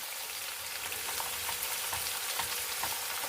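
Sliced onions sauté in hot oil in a pan, giving a steady, close crackling sizzle with faint stirring scrapes throughout, no voices, for a sambar and dosa breakfast.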